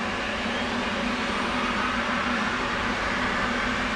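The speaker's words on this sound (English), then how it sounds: "We're going to crank the right engine first." Right engine of an F-18 Hornet cranking during startup in the DCS flight game, a steady loud broadband whine and roar that holds constant throughout, with no talking.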